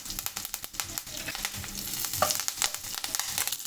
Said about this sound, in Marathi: तेल उडून आहे म्हणून पण असं झाकून ठेवून द्यायचं